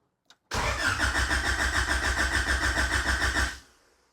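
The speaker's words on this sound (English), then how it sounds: "let's just see if she cranks over" A Honda H22 engine being cranked for its first start: a short tick, then a loud steady rhythmic cranking pulse lasting about three seconds that stops and fades out, with no voices.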